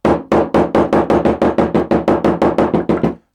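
A hammer strikes a leather belt about fifteen times at a steady, brisk rhythm to flatten stitched seams in a workshop, each knock loud, close and alone with no talk.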